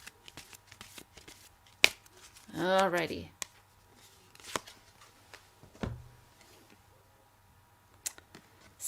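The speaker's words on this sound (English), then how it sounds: "One more shuffle." A deck of oversized cards is given a single quick shuffle, a brief soft riffling burst in a quiet room, with a short spoken word before it and scattered small taps around it.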